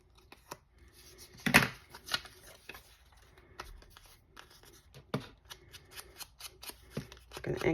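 Scissors snip paper near a file folder in a crafting session, a series of short, quiet crisp cuts and rustles spaced irregularly, with a few sharper louder snips.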